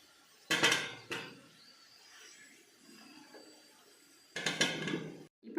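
Fried baby potatoes being moved from a pan onto a plate, two short bursts of clattering cookware and utensil scraping separated by a quiet pause.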